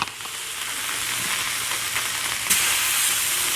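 Salmon pieces frying on a hot griddle, a loud continuous sizzle with a sharp burst of hissing as a piece is turned partway through, then a steady fry.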